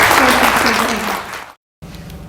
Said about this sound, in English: Please give these ladies and gentlemen a round of applause.